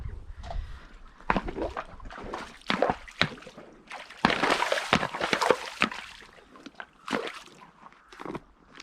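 A Friesian horse splashes through water in a boggy beck, making bursts of sloshing and splashing in irregular close strokes, with quieter gaps between them.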